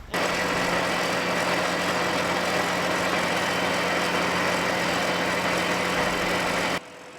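A Ventrac trencher engine runs in a loud, steady, close drone for several seconds, then cuts off abruptly near the end.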